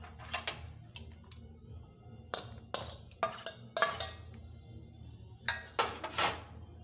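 Chopped cucumber, chilli, carrot and coriander tipped into a bowl for aloo kabli: quiet, scattered clinks and taps of utensil against dish come in small clusters over a soft background.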